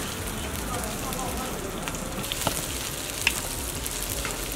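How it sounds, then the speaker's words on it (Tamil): Shallots fry in oil over a fierce rocket stove, giving a dense, crackling sizzle that runs continuously with a couple of sharp pops, like rain on a hard surface. "இப்போ வந்து இனிமேல் நல்லா ஃப்ரை ஆகும்."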